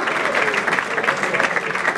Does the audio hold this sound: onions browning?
no